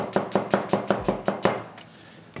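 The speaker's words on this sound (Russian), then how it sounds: "начинаем резать красный лук" Red onion being chopped with a knife on a board for a chili crab recipe: about eight quick, evenly spaced close chops, then a pause and one more cut.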